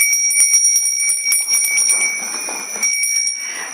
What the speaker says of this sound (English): we are going to ring the bell to say thank you to our auspicious hosts